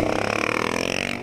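A 2019 Yamaha R6 with a full Akrapovic exhaust line revving close by, a loud, continuous engine note with rapid pulsing and a slight airbox whistle, heard alone.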